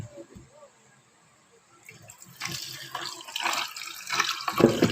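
Water runs and splashes steadily, growing louder over a few seconds, with a brief stretch of quiet and faint handling noise before it starts.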